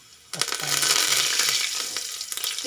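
Cumin, asafoetida and chopped garlic hit hot oil in a pan for a potato and aubergine curry, setting off a sudden loud, steady sizzle that hisses on for about two seconds before dropping away.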